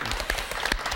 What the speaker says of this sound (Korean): 10년 만에 이뤄낸 쾌거에 우리 다 함께 다시 한번 박수로 축하를 해드리죠